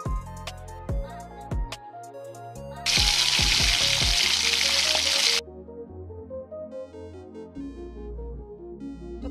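Garlic tadka hits a pot of dal with a loud, steady sizzle lasting a few seconds, bracketed by clinking utensil taps and softer kitchen sounds, close up and without speech.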